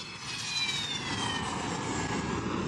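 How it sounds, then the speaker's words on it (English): Steady roar of a Syrian MiG-23 military jet dating from the 1960s, heard at an airbase after a bombing run; a loud continuous engine rush with a faint high whine, no speech. "another Syrian aircraft, the MiG-23, which dates back to the 1960s. This particular jet"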